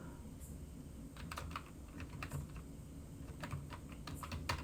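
Fingers type on a computer keyboard in short, irregular bursts of quiet key clicks with pauses between them. The clicks are faint and close, over a low room hum, and no one speaks.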